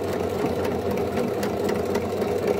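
Sewing machine stitching a homemade N95-type face mask, a close steady mechanical whir with a rapid, even needle rattle running without pause.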